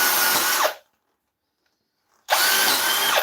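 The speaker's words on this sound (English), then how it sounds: "Doesn't really matter that I'm drilling into the face of the bowl" Power drill bores into the face of an oak bowl on a lathe, a loud steady whine that cuts out for over a second of silence, then starts again at full volume.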